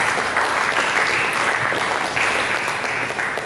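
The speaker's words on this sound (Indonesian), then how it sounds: "Mari kita berikan tepuk tangan bagi Yesus." A church congregation claps in sustained, dense applause during a worship service, a steady wash of many hands throughout.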